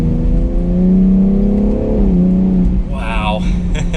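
A 2021 BMW X3 M Competition engine revs up through paddle-shifted gears, rising in pitch then dropping at the shift, heard from inside the cabin with a steady road drone beneath.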